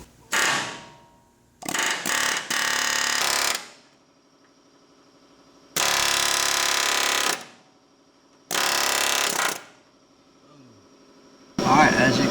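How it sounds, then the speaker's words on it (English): Pneumatic air chisel cutting a rivet from the front suspension of a 1986 Ford F-150: loud, rapid hammering bursts of a few seconds each, separated by pauses, close to the microphone. "our boy just showed us how to use that Air-chisel"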